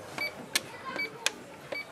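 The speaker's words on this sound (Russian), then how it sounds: "Касса супермаркета" A supermarket checkout in a shopping mall gives short, sharp electronic beeps at irregular intervals, each a bright scanner chirp, over a faint murmur of store background.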